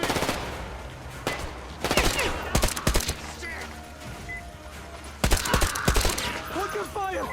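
Repeated bursts of automatic gunfire in the video game Metro Exodus, loud and close over a constant rumbling background, with clustered volleys and occasional voices.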